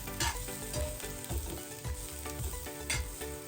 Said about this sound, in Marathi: तेलामध्ये ना आपण अद्रक लसूण कांदा चांगला व्यवस्थित भाजून घ्यायचा